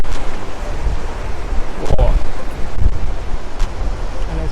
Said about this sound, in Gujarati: અદ્ભુત દરિયો નિહાળો જેના મોજા બહુ મોટા મોટા મોજાઓ છે